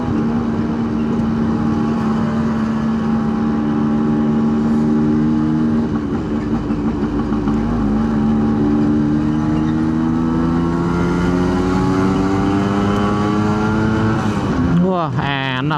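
A Suzuki A100 motorcycle, just back from an engine overhaul, pulls hard along the Pantura highway, its loud, close two-stroke drone climbing steadily in pitch under wind rush, with a brief rough burst near the end.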